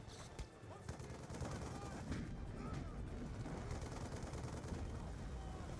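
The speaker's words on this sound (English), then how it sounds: "Look at all the crazy shooting and fighting going on here." Dense, continuous gunfire and explosions from a battlefield in Call of Duty: Black Ops II on Wii U, with bursts of shots and rumbling blasts layered throughout, getting fuller after the first second.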